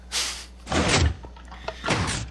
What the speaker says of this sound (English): Door is very fast.